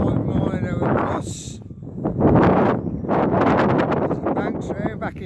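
Strong wind of more than 25 mph buffets an outdoor setting where a model plane is flown, roaring in loud, gusty surges right against the microphone.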